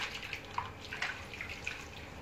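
Plain water runs and drips while a hair wig is rinsed clear of alcohol-free shampoo, a soft steady trickle with small splashy drips, close and quiet, with no voices.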